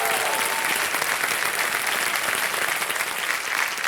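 Studio audience applause on the Hindi quiz show Kaun Banega Crorepati, a dense, steady burst of clapping from a large crowd that fills the room with no talking.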